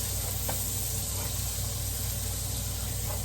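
Garlic sizzles steadily in a hot pan during cooking of a creamy potato soup, a constant loud hiss with a couple of faint scraping stirs.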